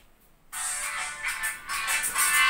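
A mobile phone ringtone for an incoming call starts abruptly after half a second, a bright electronic melody that rings close and steady to the end.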